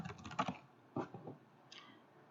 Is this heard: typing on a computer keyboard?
yes